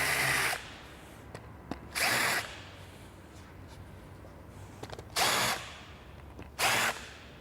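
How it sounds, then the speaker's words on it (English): A power drill countersinks screw holes in a melamine concrete countertop form in four short, loud bursts, with quiet handling clicks and taps between them. "We countersink them so that screw head will go down into the melamine."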